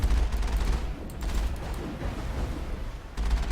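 Rapid gunfire from the video game Mass Effect bursts in dense automatic volleys at the start and end, with a brief quieter gap of clanking mechanisms in between.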